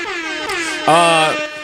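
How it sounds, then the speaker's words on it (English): A loud, blaring air horn blast with stacked harmonic tones, following a brief burst of a wavering horn-like tone just before it. "Turn my air horn up."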